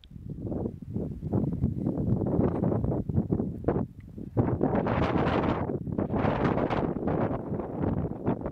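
Wind buffets the microphone on the River Severn bank during an autumn fishing club match, a steady, rumbling roar that swells and eases in gusts up close.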